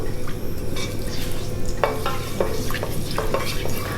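Methi (fenugreek) seeds frying in a pan for Mangalorean chicken curry, with a steady close sizzle and a few scraping stirs of a spoon against the pan, no voices.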